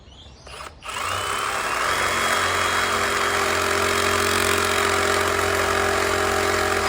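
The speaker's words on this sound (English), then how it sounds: "18 volt reciprocating saw with a new blade in it, so it should go pretty well." After a brief soft rustle, an 18-volt cordless reciprocating saw with a new blade starts up cutting a large wooden fencepost, running steadily at close range with a loud, continuous buzzing whine.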